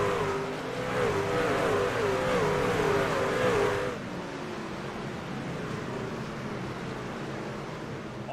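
Stock cars race at Nashville Fairgrounds Speedway, a pack of engines droning and wavering at steady distance, louder at first and then dropping to a quieter, more distant roar partway through, with no talk.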